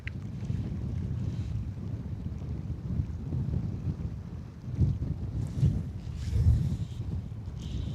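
Strong wind sweeps across Nant y Moch, a Welsh reservoir, during fly fishing, buffeting the microphone with a constant low rumble and swelling into louder gusts toward the end, with no talking.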